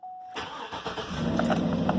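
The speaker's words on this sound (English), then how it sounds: "go ahead and start up your car" A GMC Yukon or Chevy Tahoe truck engine cranks and starts after a brief tone, then settles into a steady, loud idle close by.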